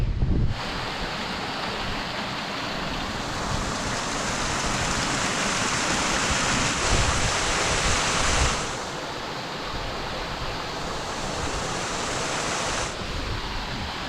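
Stream water pouring into a shaded moorland plunge pool at Blackden Brook on Edale Moor, a steady close broadband rush and roar that holds throughout with no speech.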